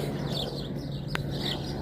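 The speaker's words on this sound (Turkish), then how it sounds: "Kuş sesi arkadaşlar." Faint bird chirps sound in the distance over a low, steady background hum.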